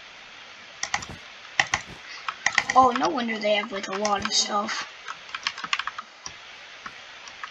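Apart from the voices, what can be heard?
typing on a new computer keyboard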